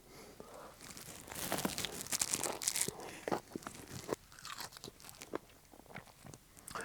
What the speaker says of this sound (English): The potatoes came out really well, and they have a nice crunch.